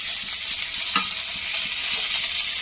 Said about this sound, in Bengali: তেলটা বেশ গরম হয়ে গেছে। এখানে দিয়ে দেবো আমি একটা কেটে রাখা বেশ বড় সাইজের টমেটো।